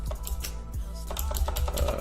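A file name being typed on a computer keyboard, with quick close-up key clicks in irregular bursts and a slight pause partway through.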